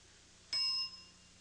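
A single bright game show bell dings once on a televised word game from 1988, ringing clearly for about a third of a second and then fading into a quiet studio.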